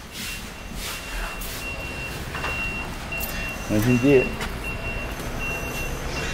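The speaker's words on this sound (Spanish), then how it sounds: "No escuchar el pitido de la marcha atrás de los camiones." A truck's reversing beeper pulses steadily at a distance under outdoor traffic noise, while someone speaks briefly partway through.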